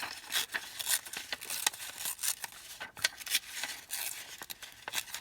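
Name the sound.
scissors cutting around a playing card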